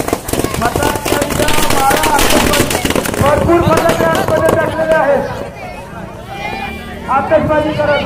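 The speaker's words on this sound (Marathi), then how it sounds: "फटाक्यांची आतषबाजी सुरू होऊ द्या" Firecrackers crackle and pop at a Navratri festival Ravana effigy burning in Subhash Nagar, dense bursts mixed into loud crowd voices and festive noise throughout.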